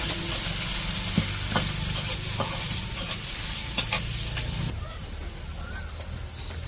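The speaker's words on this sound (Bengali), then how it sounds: "এই ছোলা রান্না করার জন্য কড়াইতে তেল দিয়ে দিছিল" Onion and green chili fry in oil in a wok for a chickpea dish, making a steady close sizzle with occasional stirring knocks and scrapes, while insects chirp faintly in the background.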